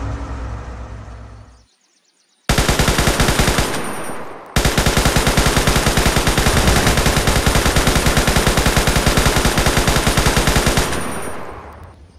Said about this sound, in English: The machine gun is pretty nice.